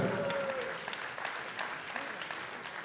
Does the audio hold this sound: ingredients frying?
no